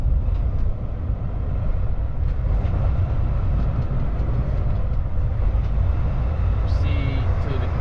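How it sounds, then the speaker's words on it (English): A rail yard with trains in Austell, Georgia gives a continuous heavy low rumble with faint mechanical noise over it, steady and loud throughout. "But this is the rail yard in Austell,"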